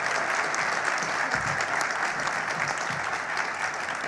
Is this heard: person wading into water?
no